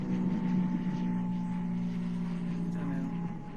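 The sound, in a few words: airplane flying overhead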